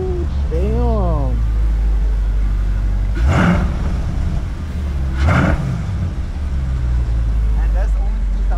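A loud truck engine drones steadily at about 2000 RPM, surging in two strong revs, with a voice speaking briefly over the roar at the start.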